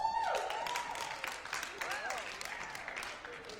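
Applause from a stand-up comedy audience, a moderate wash of clapping and crowd noise running under a speaking voice that carries over it.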